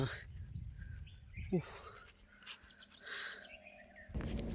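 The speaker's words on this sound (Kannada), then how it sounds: "ಇಲ್ಲಿರ್ತಕ್ಕಂಥ ಈ ಪಕ್ಷಿಗಳು ಸೌಂಡನ್ನು ಕೇಳಿದರೆ ಎಷ್ಟು ಆನಂದವಾಗುತ್ತೆ" Birds chirp and twitter outdoors in a steady mix of short calls, with a brief thump partway through and low rumbling background noise.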